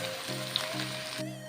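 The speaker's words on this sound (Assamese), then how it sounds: "এতিয়া মই ইয়াতে অলপ পানী দিম আৰু অকণমান পানী দি পেলাই অলপ সময় ভাজি থাকিম।" Mutton fries in a pan just after a little water is added, giving a continuous hissing sizzle with a low hum underneath.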